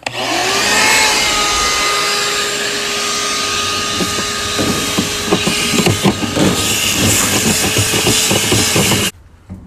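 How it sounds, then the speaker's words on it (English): A vacuum cleaner runs loudly and steadily up close inside an old washing machine drum, with some clattering and knocking mixed in, before it suddenly shuts off near the end. "let's get the vacuum in there."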